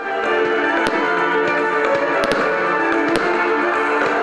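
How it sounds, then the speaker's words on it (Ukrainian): A fireworks salute at a village birthday celebration in Chornobai, Ukraine: crackles and pops continuously, with several sharp bangs standing out over a dense, rumbling wash of bursts. "Грандіозне святкування дня народження Чорнобаю завершив кількахвилинний салют."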